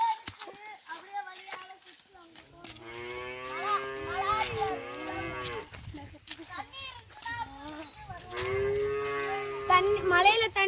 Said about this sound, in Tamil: பாருங்க மாடு கத்துறாரு.